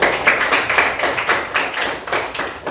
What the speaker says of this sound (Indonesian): Tepuk tangan buat Arya.